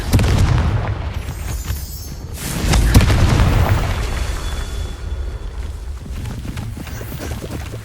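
Confringo blasting spell from Hogwarts Legacy erupting in a deep, booming explosion that rolls on with rumbling debris, loud and close, with a second swelling blast a few seconds later.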